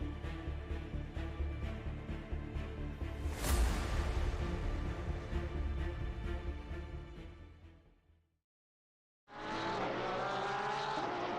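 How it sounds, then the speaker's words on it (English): Race cars lapping the Red Bull Ring in a practice session, engines screaming loud and close with rapid gear-shift pulses and a passing roar that fades to silence before another car's engine cuts back in. "we look at the cars running around in their practice session"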